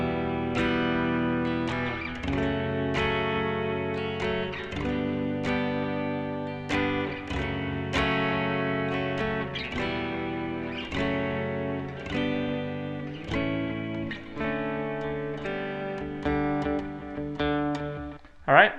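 Electric guitar strumming barre chords through the chorus of a song, a steady rhythmic pattern of bright, slightly driven chord hits played alone at an even, fairly loud level.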